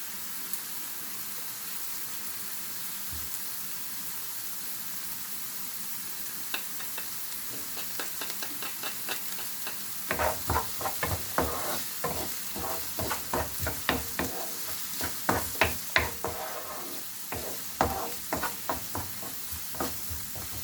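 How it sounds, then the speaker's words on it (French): Onions and garlic fry in a pan for a Bolognaise sauce, a quiet steady sizzle that picks up halfway through with a run of sharp scraping stirs and crackles, heard alone without speech. "j'ai laissé cuire un petit peu les oignons avec l'ail. C'est en train de dorer un petit peu"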